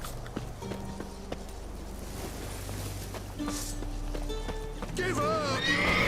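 Horses in The Witcher 3 video game, with neighs and whinnies over steady hoof clip-clop, while game dialogue and music play along and a louder whinny arrives near the end.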